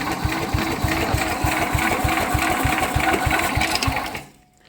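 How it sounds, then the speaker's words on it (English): A vintage Sears Suburban 12 lawn tractor from a barn find, its engine turning over under the starter in a steady, rapid rhythmic chug, close and loud, before cutting off at the end. "I did get it to, it turns over now."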